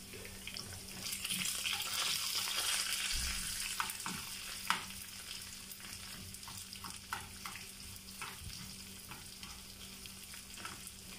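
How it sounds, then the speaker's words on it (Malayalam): Mustard seeds, cumin, garlic, dried chili and curry leaves sauté in hot oil in a home kitchen, giving a steady close sizzle with scattered pops and spoon-stirring scrapes throughout. "നിങ്ങളിത് കാണുന്നുണ്ടല്ലോ വഴറ്റുന്നത്."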